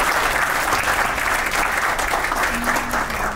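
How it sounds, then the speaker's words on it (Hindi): A crowd at a fan meet claps enthusiastically, dense sustained applause filling the whole moment at close, even loudness. "एक बार जोर से ताली बजाएंगे"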